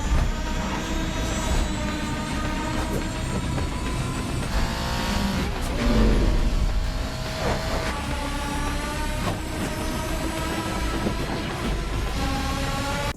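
Jay Leno's Y2K rocket bike, a turbine-powered motorcycle, screams down a road in a film chase after a villain on a Harley, a loud sustained whine with layered engine tones and swelling passes, no talk.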